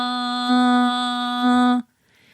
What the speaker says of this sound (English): So that was the nasal vocalization.